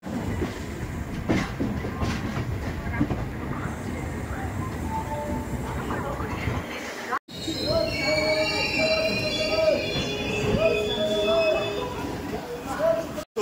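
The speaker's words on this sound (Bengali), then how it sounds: "আমাদের ট্রেন জাস্ট ক্রস করলো কোলাঘাট ব্রিজ" The 22201 Puri Duronto Express rolls on just past the Kolaghat rail bridge over the river, a steady close rumble of wheels and carriages with squealing, whining tones and brief dropouts near the end.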